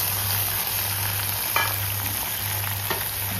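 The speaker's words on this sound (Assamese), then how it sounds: "এই সৰিয়হখিনি দেখিছেনে আধা বটা হৈ আছে, এইখিনি মই ইয়াতে ফ্ৰাই কৰি লওঁ" Half-ground mustard seeds fry in hot oil, giving a steady, close sizzle with a couple of brief scraping stirs partway through.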